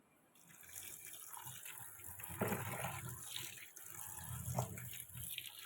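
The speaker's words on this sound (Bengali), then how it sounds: "দুদিন আগে বাজার থেকে টমেটো আর ঢ্যাঁড়সটা নিয়ে এসেছি সেটা ধোয়ার সময় পাইনি তো এখন ভাবছি একটু ধুয়ে নিই" Tap water runs into a sink while tomatoes and okra are rinsed by hand, a steady splashing flow with irregular sloshes and drips close by.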